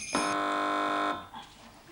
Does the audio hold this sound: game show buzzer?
yes